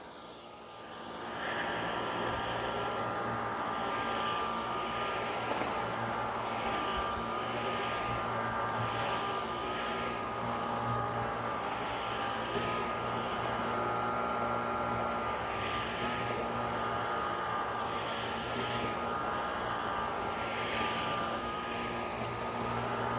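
Dyson V16 cordless vacuum cleaner running on carpet, a loud, steady motor whine and suction roar that starts up after a second and holds with slight rises and falls in pitch, close and alone.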